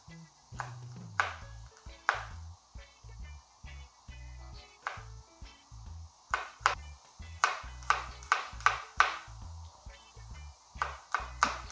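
Ginger and garlic are pounded for an Ethiopian bread firfir with beef, a series of sharp knocks with ringing metallic pings, sparse at first and then quicker and more regular toward the end.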